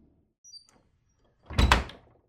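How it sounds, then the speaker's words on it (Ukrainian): A door shut firmly in a quiet room, a single solid thud with a short rattle, preceded by a faint brief knock, then silence. "Покинувши кімнату, я надійно зачинив двері туди і прислухався."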